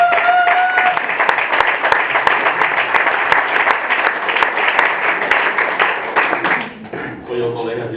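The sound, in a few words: audience applause for Pau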